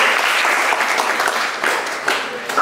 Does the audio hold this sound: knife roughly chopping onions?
no